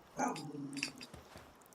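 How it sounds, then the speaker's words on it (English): A Pal creature in the Palworld video game gives a short, faint growl and bark-like grunts, fairly quiet and close, with no talking. "now he's growling like I can't believe how much he's growling"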